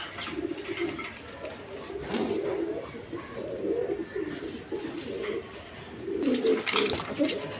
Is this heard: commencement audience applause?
no